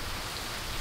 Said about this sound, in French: Mais gros, il pleut un déluge.